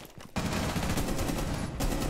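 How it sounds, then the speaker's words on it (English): Rainbow Six Siege gameplay carries a sudden, dense burst of automatic gunfire that fills nearly two seconds at loud, close range. "He's shooting me."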